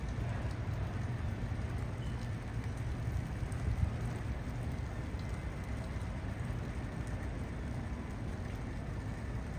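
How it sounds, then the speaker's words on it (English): Steady rain falling outdoors on a rainy day, a continuous even hiss and patter with no break. "It's beautiful rainy day."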